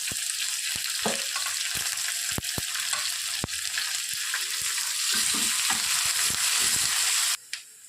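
Sliced onions and curry leaves fry steadily in hot oil in a pan, a continuous close sizzle punctuated by scattered sharp crackles and pops, with a brief stir near the end.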